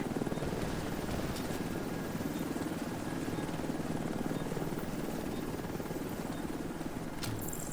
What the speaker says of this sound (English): Helo is returning to base.